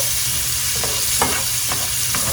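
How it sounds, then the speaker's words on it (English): Chopped yellow onions sautéing in a pan, a loud continuous sizzle with a few soft scraping strokes as they are stirred. "I think I want to soften my onions first and then add my garlic"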